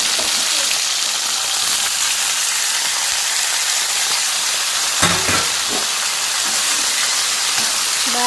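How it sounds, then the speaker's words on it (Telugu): Cabbage frying in hot oil gives a steady, close sizzle throughout, with a few brief stirring scrapes near the middle and a faint clink at the end. "క్యాబేజీ కూడా వేసుకొని ఆయిల్లో బాగా ఫ్రై చేసుకున్నాను"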